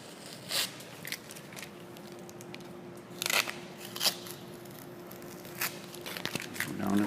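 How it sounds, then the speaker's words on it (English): Tape being peeled off a hinge during a stainless vinyl panel install, heard as a few short tearing and crinkling bursts over a quiet room with a faint steady hum. "We're going to peel our tape off from our hinge."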